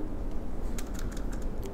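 Keys clicking in a quick irregular patter on a computer keyboard while text is entered into a PowerPoint text box, over a steady low hum.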